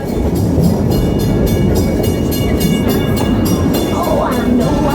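Dollywood amusement park train rolling along its rails, a loud, close, continuous rumble with repeated clickety-clack beats from the wheels and a faint high tone near the end.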